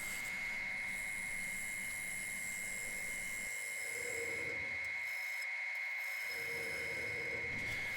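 A wood lathe hollows out a thick bowl blank for a thin-walled ring bowl, giving a steady, loud, droning hum with tonal whine. The tool noise drops out briefly twice, then the hollowing cut resumes.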